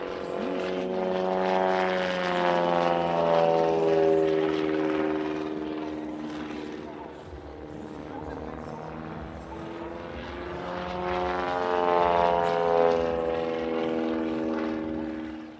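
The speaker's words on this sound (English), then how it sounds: "It's Luke Czepiela flying the aeroplane that made him famous, a specially built Carbon Cub SS" A specially built Carbon Cub SS light propeller plane drones loudly overhead at an airshow in Leszno, its engine pitch sliding down and then swelling again as it passes and returns.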